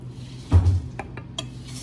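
Cooked rice being fluffed in a pot for a home meal: a soft scrape and a dull knock of utensil against the pot, followed by a few light clinks, close and brief, with no talk.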